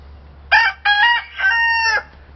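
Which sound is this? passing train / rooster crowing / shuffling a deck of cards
rooster crowing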